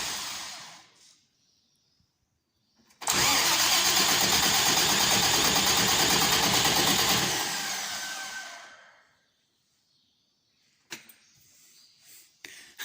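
A Case 1594 tractor engine is cranked by a new starter motor, a loud close whirring churn that starts abruptly, runs steadily for about five seconds, then winds down into silence, followed by brief faint knocks.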